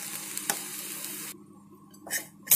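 Masala and potatoes frying in a pan for ghugni sizzle and get stirred, then the sizzling drops off sharply after hot water goes in, leaving quieter bubbling with a few scraping stir sounds near the end.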